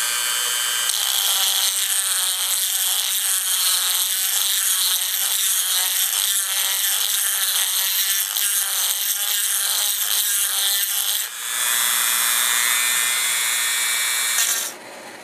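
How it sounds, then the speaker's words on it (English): Copper pipe is cut with a pipe cutter and then beveled at the end with a Dremel rotary tool, giving a loud continuous high-pitched grinding whine that shifts in tone near the end, with no talking. "I'm going to go ahead and cut it with a pipe cutter. And then once I cut it, I need to use a Dremel to make a bevel"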